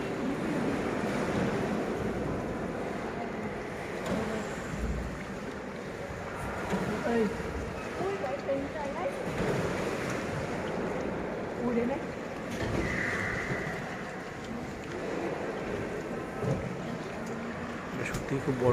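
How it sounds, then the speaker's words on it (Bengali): Boat moving along the underground river inside Phong Nha cave, Vietnam: a continuous wash of water and hull noise with a low rumble, rising and falling gently, while people talk over it. "নৌকা চলছে।"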